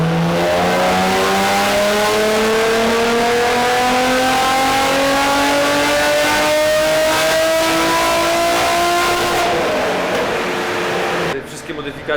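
A BMW fitted with a new intake and exhaust revs hard on a dynamometer, rising in one smooth, loud pull for several seconds before the throttle lifts and the engine note falls away.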